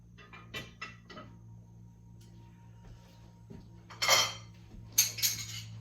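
Heavy Fostoria Colony glassware, including a 13-inch lotus bowl, set down and handled on a table, giving a few soft clinks early and two louder, bright glassy clinks near the end over a low steady hum.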